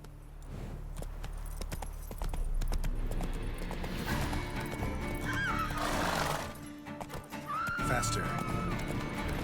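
Roach, a horse in The Witcher 3 video game, clops its hooves at a steady pace and lets out a whinny. Game music and ambience play underneath and a voice talks over the hoofbeats.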